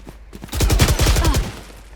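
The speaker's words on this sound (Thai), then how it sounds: "ยิงหัวครับปือเดียวเท่านั้น ยิงหัวครับ" Rapid burst of gunfire in a Thai online shooting game, several loud shots fired in quick succession and aimed at enemies' heads, standing alone without talk.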